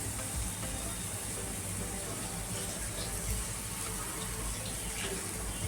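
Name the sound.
pouring water into ground spice paste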